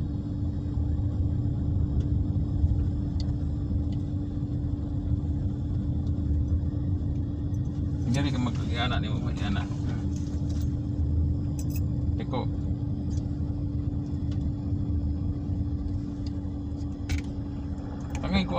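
A car engine idles and revs steadily at close range during a first manual-driving lesson, a constant low rumble throughout with a voice talking over it.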